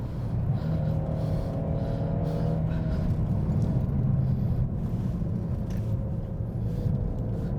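A Peugeot 407 Coupe's engine drones steadily while driving, a continuous low rumble with road and tyre noise from inside the car, holding a fairly even pitch throughout.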